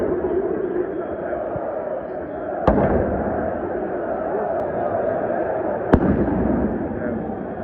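Fireworks bang inside a football stadium before a derby as the teams walk out, a couple of sharp cracks standing out over a dense, roaring crowd din, with a voice faintly present.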